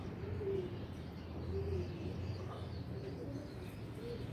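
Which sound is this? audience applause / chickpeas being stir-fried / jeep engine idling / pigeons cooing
pigeons cooing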